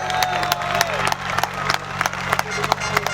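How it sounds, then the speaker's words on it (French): Crowd applause for a racing driver at a motorsport finale, sparse sharp claps and cheering over a steady droning background hum, with voices mixed in. "Un tonnerre d'applaudissements"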